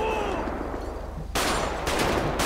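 Gunfire in the video game GTA during a police shootout, with sharp bursts of shots after a rumbling lead-in, loud and close, breaking out in two separate volleys.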